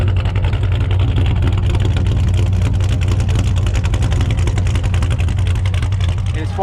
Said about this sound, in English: Listen to this exhaust